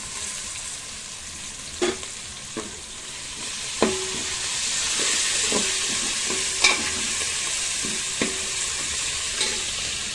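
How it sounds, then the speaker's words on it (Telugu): Seasoning frying in a pan with curry leaves and coriander for a Telugu makka jonna gudalu (corn) dish, a steady close sizzle broken by occasional scraping stirs of a spoon against the pan, no voices. "కొంచెం వేగనిద్దాము."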